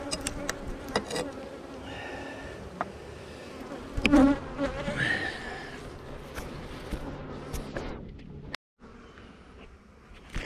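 Honey bees buzzing around an opened hive colony, a continuous close swarm hum with individual bees droning past, louder in the middle, broken by a brief cut near the end.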